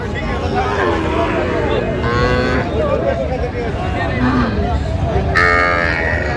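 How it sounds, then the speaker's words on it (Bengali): A young bull calf lets out a few nearby moos at the Aftabganj cattle market, heard over constant chatter and haggling from people in the crowd. "ষাঁড় বাচ্চা আমরা দেখছিলাম এখানে।"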